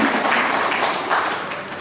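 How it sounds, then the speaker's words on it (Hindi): An audience at a Sage University teacher-honouring ceremony in Nagda bursts into sustained, loud applause for the local MLA, a dense wash of many hands clapping together that eases off slightly toward the end. "कृपया तालियों के साथ विधायक जी का एक बार जोरदार अभिनंदन करें"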